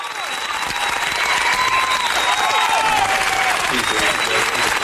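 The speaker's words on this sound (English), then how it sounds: "give some claps to the homie" Sustained clapping and crowd noise for a podcast guest, with voices talking over the applause throughout.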